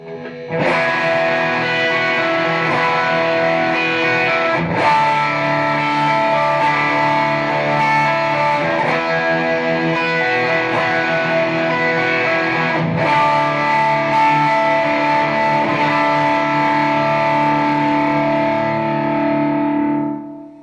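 Heavily distorted electric guitar through a TC Electronic Dark Matter distortion pedal with gain maxed rings out in sustained chords, loud and continuous, with a couple of sharp re-strummed attacks.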